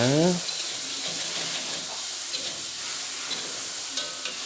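Tofu and onions stirred in a hot frying pan, a steady close sizzle with faint scraping of the utensil running throughout, and a brief tonal sweep at the very start.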